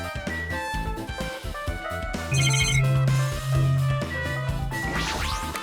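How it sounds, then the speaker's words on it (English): Alarm clock ringing in the Danganronpa 2 video game, a steady electronic ring that repeats in bursts over game music, loud and close with no talk. "I never knew this clock had an alarm function."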